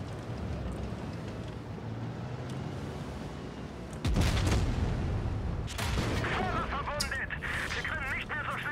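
Gunfire strikes the Grille 15 tank destroyer in a tank battle game, heavy booming impacts landing around four and six seconds over steady engine rumble, with someone talking excitedly.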